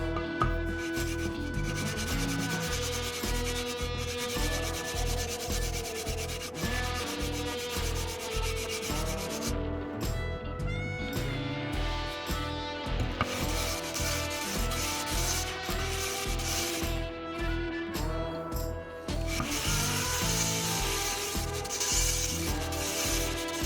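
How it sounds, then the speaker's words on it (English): Coarse sandpaper rubs back and forth across a guitar fretboard in steady, rhythmic strokes, close and loud throughout. "I decided to use sanding paper with a larger granularity."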